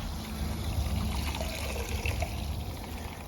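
Water draining out of a home heating system into a drain, a steady close trickling and gurgling flow with a low rushing undertone, continuous and without talk.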